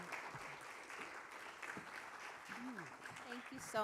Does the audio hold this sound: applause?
yes